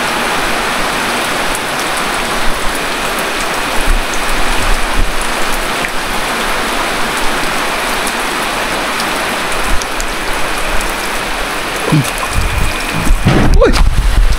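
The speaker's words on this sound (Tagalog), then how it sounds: "Ay nako, lumakas pa ang ulan." Heavy rain pours outdoors in a loud, steady wash of drops that keeps up throughout, with brief voices and knocks breaking in near the end.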